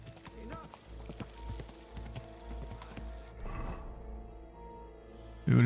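Horse hooves clip-clopping in Kingdom Come Deliverance 2, a steady rhythmic trot under game music, with someone talking over it and a loud bump at the end.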